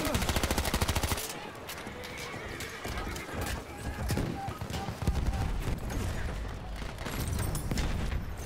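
Rapid machine gun fire in Battlefield 1 multiplayer, dense clattering bursts running through the clip alongside a horse whinny and hoofbeats, moderately loud.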